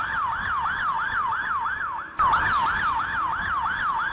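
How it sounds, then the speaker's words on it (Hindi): An ambulance siren wails close and loud, a rapid repeating up-down yelp that cuts briefly and resumes without pause. "एम्बुलेंस।"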